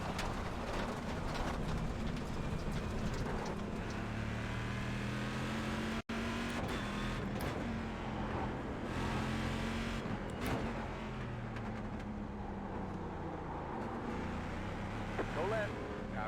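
A GT1 race car's engine drones and shifts pitch at Summit Point in a racing game as another car runs alongside, steady and moderately loud for the whole stretch with a brief cut near the middle, while a voice talks over it.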